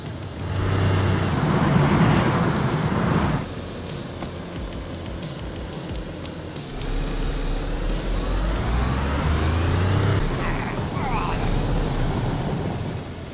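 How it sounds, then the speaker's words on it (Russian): A car pulls up in the DayZ survival game, its engine droning loudly and rising in pitch as it approaches, with rain-like noise around it and voices talking over it. "За нами машина приехала."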